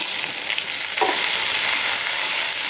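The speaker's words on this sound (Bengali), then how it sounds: "ভালো করে পেঁয়াজটা ভেজে নিতে হবে যাতে সফট হয়" Chopped onions fry in a kadai with cumin, ginger and garlic. A dense, even sizzle runs throughout, with one short scrape of stirring partway in and no voices.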